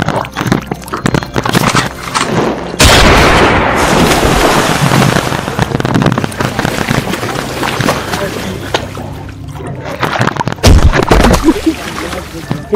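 Gunfire sound effects in an Awadhi comedy sketch: a loud, sharp burst of shots crackles out, followed later by another heavy blast, with voices talking in between.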